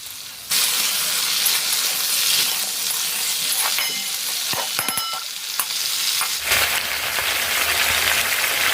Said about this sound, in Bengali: এই পেঁয়াজগুলো আমি দিয়ে পেঁয়াজটাকেও একটু লাল লাল করে কুমড়োর সাথে ভেজে নেবো